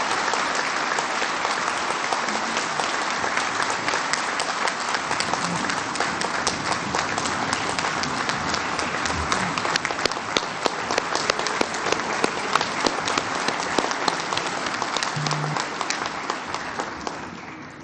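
A crowd at a press conference applauds Dr. Tariq with sustained, dense clapping that swells slightly toward the end, close and continuous, with a few faint voices underneath.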